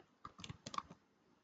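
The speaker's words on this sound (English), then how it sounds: "I will write, for example, Kyrie" A computer keyboard is tapped in a short, quick burst of about a dozen light keystrokes, faint and close, with near silence before and after.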